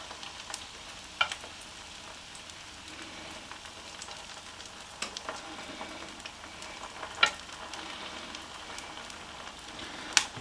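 Back bacon and streaky bacon cook inside a Ninja air fryer, giving a steady, faint crackling sizzle like light rain on a surface, with a few sharper pops scattered through.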